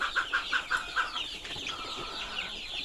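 Free-range native chickens and chicks on a poultry farm cluck nearby, opening with a quick rhythmic series of clucks, then settling into softer, overlapping chatter from the flock.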